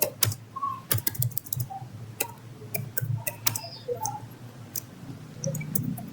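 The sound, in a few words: typing on computer keyboard, Java code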